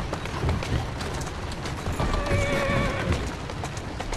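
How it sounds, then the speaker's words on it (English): Horse in Assassin's Creed Syndicate, set in Victorian London, whinnying with a clear rising tone mid-clip over steady clip-clop of hooves and a continuous game background, all close and fairly loud with no talk. "Who's a good horse? You are."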